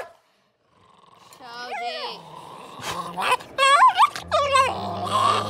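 A protective dog growls and whimpers over its food bowl at home, with rising whiny yelps and low rumbling growls close by, interrupted by a person speaking to it.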